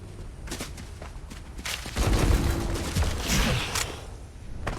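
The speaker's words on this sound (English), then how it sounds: "Said somebody's shooting at us." Scattered gunfire in a video game, with a few quiet distant pops early on and a denser burst of shots near the middle. Faint background game sound fills the gaps.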